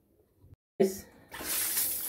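Water gushes from a tap to rinse off hair dye, beginning abruptly after a brief pause and settling into a steady close splashing flow, with a faint voice at the start.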